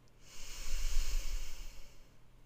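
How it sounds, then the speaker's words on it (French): A single long forceful exhale through one nostril during a breathing exercise, a breathy hiss swelling and fading over about two seconds, close and alone. "Mettez votre index sur la narine gauche et soufflez."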